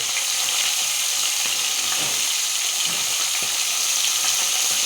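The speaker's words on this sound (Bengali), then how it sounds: "এখন এই মাছটা ফ্রাই হোক" A piece of fish fries in hot oil in a pan, giving a dense, continuous sizzle that holds at an even loudness with no voices over it.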